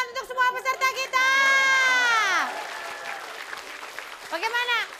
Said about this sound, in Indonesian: Tepuk tangan untuk semua peserta kita.